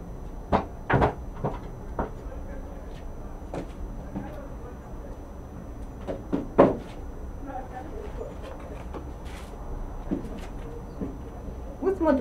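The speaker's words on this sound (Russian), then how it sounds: "Стульчик поставлю в ту сторону." A small chair is shifted and set down indoors with several knocks and scrapes scattered through the stretch, fairly close and moderately loud, amid room noise and a woman's speech.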